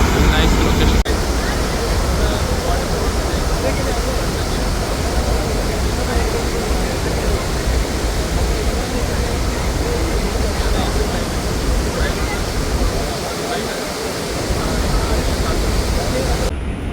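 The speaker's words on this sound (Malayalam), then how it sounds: "മഴ പെയ്യണ പോലെയാണ് വെള്ളം വന്നുകൊണ്ടിരിക്കുന്നത്. നല്ല രീതിക്കാണ് ഫോഴ്സിൽ വെള്ളം ഉണ്ടായിക്കൊണ്ടിരിക്കുന്നത്." Athirapilly waterfall pours down with great force, making a loud, constant broadband roar like heavy rain. The roar fills the scene without pause and covers everything else.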